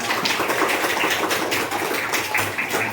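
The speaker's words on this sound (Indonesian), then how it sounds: "Ya, beri tepuk tangan." A classroom of pupils claps together, a dense burst of applause heard close and steady for a few seconds with no talking.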